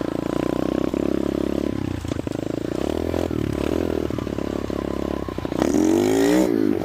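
A restored mini bike's small engine runs close and loud with a steady droning idle, then revs up sharply near the end.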